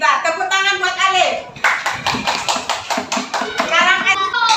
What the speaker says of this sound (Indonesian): Tepuk tangan buat Alif.